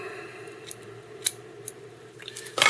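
Scissors snip near the mic while trimming material on a Green Pearl Grand Cascapedia salmon fly, a few light clicks and then a sharper cluster of cuts at the end.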